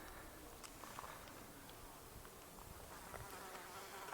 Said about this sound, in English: These flies just keep landing on us.